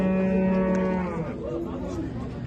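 Big oxen at the Shymkent livestock market give a long, loud, close moo that fades into the murmur of the market crowd.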